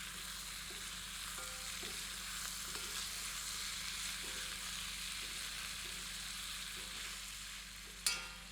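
Green vegetables are mixed into a pot of paya (goat trotter) soup, a faint, even sizzle with soft, regular stirring taps and one sharp clink near the end.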